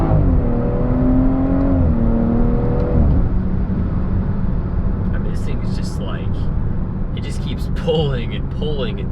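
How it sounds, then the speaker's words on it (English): A BMW with a B58 engine running performance software accelerates hard, a loud continuous engine drone with rising harmonics through the first few seconds, then a steady roar under ongoing noise. "This car, it just absolutely pulls like a freight train."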